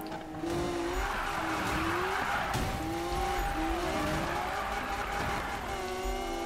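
A Liberty Walk Lamborghini Aventador in Need for Speed 2015 slides sideways, its tires squealing in long wavering, sweeping tones over a constant engine drone, loud and close.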